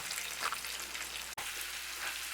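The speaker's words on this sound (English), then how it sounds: "we have our onions and our mushrooms in our pan. They're cooking." Onions and mushrooms cooking in butter in a pan, giving a steady, faint hiss of sizzling fat. Continuous and even, with one brief dropout partway through.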